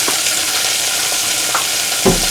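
Half a head of riced cauliflower frying in a home kitchen pan, a steady close hiss and sizzle with a couple of faint stirring scrapes, the last one louder near the end.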